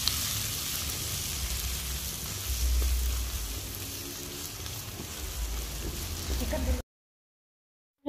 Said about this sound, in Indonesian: Tumis bawang merah dan bawang putih hingga harum.